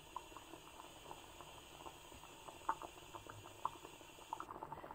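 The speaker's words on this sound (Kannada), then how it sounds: "ನೋಡಿ ಚೆನ್ನಾಗಿ ಕುದಿ ಬರ್ತಾ ಇದೆ" A pot of traditional hultho stew at a rolling boil gives off faint, irregular bubbling pops and soft gurgles over a low, quiet background hum, with no voices.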